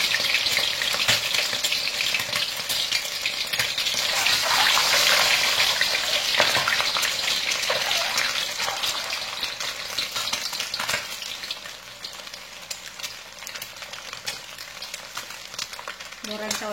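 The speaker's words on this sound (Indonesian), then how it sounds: "Kita udah bisa goreng telurnya." Eggs fry in very hot oil for a Minang-style telur balado, giving a loud, steady sizzle and crackle that swells early and then settles, with a voice speaking over it at times.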